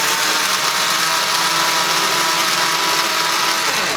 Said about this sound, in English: I actually put 3 tablespoons of almond flour in here, and I'm going to grind it up real fine